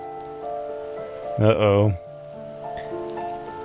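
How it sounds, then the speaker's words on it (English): Steady rain pours on the Jade Valley in The First Tree, a continuous soft hiss throughout, with a brief loud musical swell in the middle and a voice speaking once. "The rain cascaded onto the Jade Valley where the entrance to the tree was."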